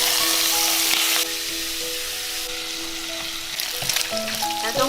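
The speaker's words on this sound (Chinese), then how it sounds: "加入少许底油，把五花肉放下来煎" Pork belly frying in a little oil in a wok over medium heat, a steady close sizzle that shifts slightly as it settles, with no talk.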